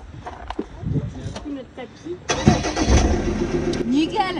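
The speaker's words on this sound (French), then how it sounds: "faut qu'on fasse démarrer le moteur" A car engine cranks and catches with a rough roar after people talk. It then settles into a steady, fairly loud idle, with voices continuing over it.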